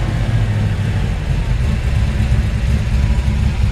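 A cold 1954 Ford F-100 engine idles just after starting, a loud, steady low rumble heard close up throughout.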